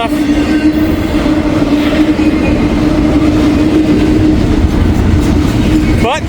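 A long freight train led by two locomotives rolls steadily past at close range, a loud continuous rumble with clattering wheels and a brief wheel squeal near the end.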